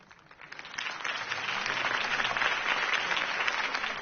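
Crowd applause after a campaign speech in the video game Batman: The Telltale Series swells in after a quiet start, then holds as steady, dense clapping for several seconds.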